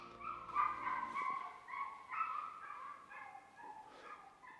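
Dogs somewhere near a backyard garden give a run of high yelping barks and whimpers, moderately distant and continuous over several seconds.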